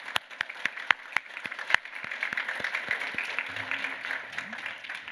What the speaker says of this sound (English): one more round of applause for our Jueju winners.